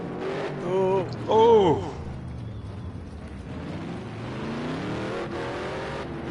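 Race cars overtake on the Indianapolis Motor Speedway road course in a racing game, engines droning and revving close by, while a voice shouts brief exclamations over them.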